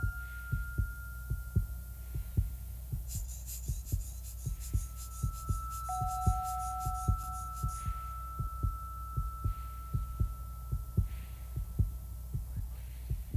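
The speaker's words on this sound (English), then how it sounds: "My heartbeat and blood pressure are still close to normal." A skier's heartbeat at high altitude on Everest, a steady, slow series of deep thumps throbbing close and loud over a constant hum, with brief high tones and a rattling texture partway through.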